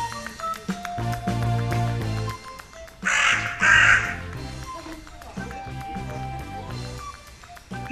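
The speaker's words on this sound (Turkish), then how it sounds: "Kargalar kedi maması yiyor." Crows caw several times in a short burst over steady background noise and a low hum, fairly close and loud.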